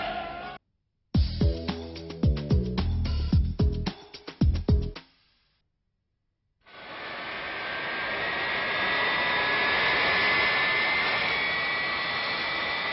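A jet airplane engine at an airport rises into a steady broad roar with a thin whine, loud and sustained. It follows a few seconds of music and a moment of silence.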